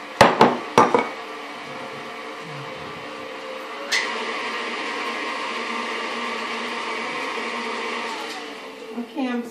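Electric mixer beating gluten-free pound cake batter, a steady whirring drone running for most of the stretch after a few sharp knocks and clatters at the start, ending with light scraping.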